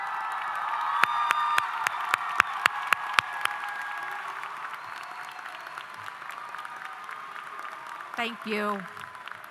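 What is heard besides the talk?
commencement audience applause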